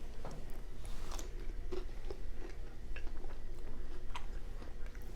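Someone eating Frito chili pie, a steady close mix of soft chewing and small crunches from corn chips softened in chili, with no talking.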